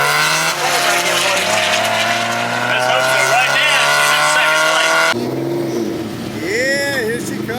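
A Champ Car race car roars loudly past, its engine pitch sweeping down as it goes by, followed by another car, with voices faintly underneath.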